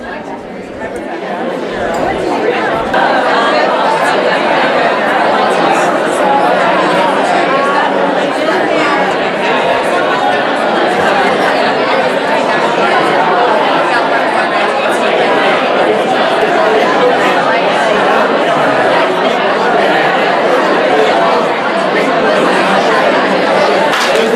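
Workshop participants split into pairs fill a room with steady overlapping conversation, a dense crowd murmur of many voices that stays constant throughout with no single speaker standing out.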